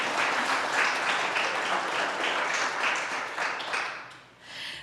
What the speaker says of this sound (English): we can give them applause